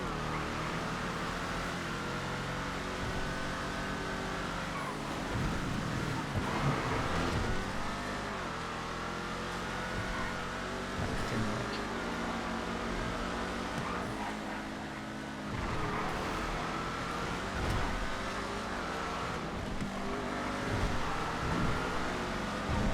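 Ruiner ZZ8 muscle car racing in GTA FiveM, its engine droning and revving steadily throughout with gear-shift dips, loud and close, backed by continuous game music.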